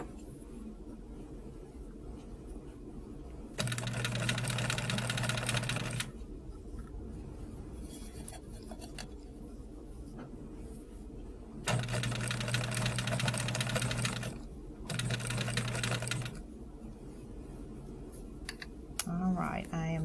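Sewing machine stitching fabric for a Caesar's Crown quilt block, three steady motor runs of a few seconds each separated by quiet pauses with faint handling noise, close and fairly quiet.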